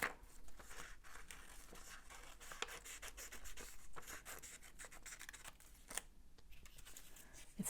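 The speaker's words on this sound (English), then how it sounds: "Now I will cut out around this one." Scissors cut out craft fuse with a string of close, quiet snips and paper-like rustles in an irregular rhythm, and no voice is heard.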